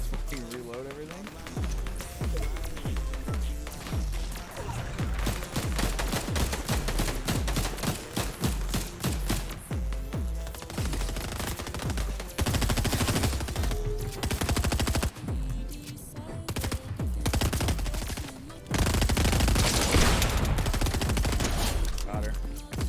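Repeated gunshots in the dark fantasy dungeon game Dark and Darker, a steady series of sharp reports over game sounds and music, with a player talking over much of it.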